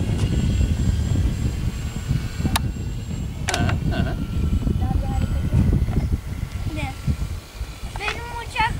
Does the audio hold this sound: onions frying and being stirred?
no